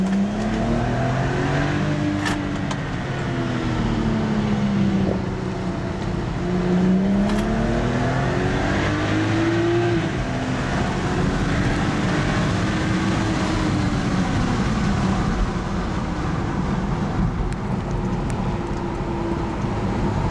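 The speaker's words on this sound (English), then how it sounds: "Let me show you what a downshift looks like." A BMW X3 35i M-Sport engine revs up and drops back through a downshift, its tone rising and falling in steady sweeps, loud and continuous with no talking over it.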